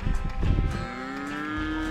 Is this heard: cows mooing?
yes